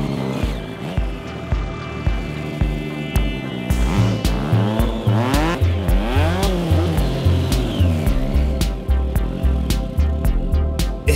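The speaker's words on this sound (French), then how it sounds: "c'est quand même assez épuisant de rouler sur la moto" A stunt motorcycle revving hard and repeatedly, engine pitch climbing and dropping in rapid throttle bursts, loud and close with a rhythmic stutter of rev-limiter cuts throughout.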